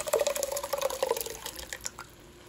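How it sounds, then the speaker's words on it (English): Water is poured into a pot of tomato meat sauce, giving a quiet, close trickling and splashing that fades out after about two seconds. "So first I'll add a little water to get the tomato sauce down from the sides."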